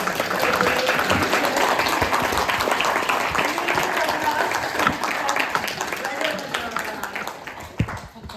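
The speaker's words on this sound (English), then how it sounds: "we really want to put our hands together and clap for" An audience at an art panel discussion applauds the moderator, a steady stretch of crowd clapping with talk running through it that gradually fades toward the end.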